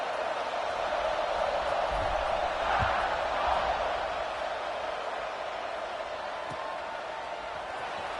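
A stadium crowd in the Madden football game makes a steady, broad roar that swells a little in the middle, with faint low thumps underneath and no clear voices standing out.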